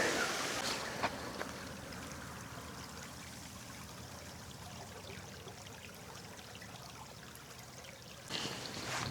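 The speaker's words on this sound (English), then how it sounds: "Heading the way down over the waterfall." A small waterfall on a burn in hilly Scottish countryside, with steady broadband rushing and trickling water sustained throughout, fairly close and even in level, a brief louder swell near the end.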